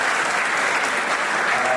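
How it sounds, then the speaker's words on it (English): Steady, dense applause from a conference audience at an international academic event in Punjab, filling the whole stretch at an even, fairly loud level without breaks. "give a round of applause for the discussion"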